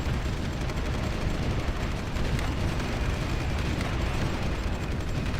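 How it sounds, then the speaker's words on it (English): Artillery fire in the strategy video game Supreme Ruler 2023 forms a continuous, loud barrage of overlapping booms and crackling blasts with no pause across the whole stretch. "They are sending so much artillery down here to try to defend this area"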